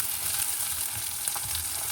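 Chopped onions and mustard seeds fry in three tablespoons of oil in a kadai, giving a steady, close, even sizzle for the whole stretch with no talking.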